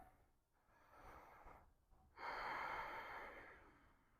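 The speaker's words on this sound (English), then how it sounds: "Breathing through the nose all the time." Slow, audible breaths in and out through the nose while holding the Garudasana yoga pose, soft airy rushes rising and falling close by with short quiet gaps between them.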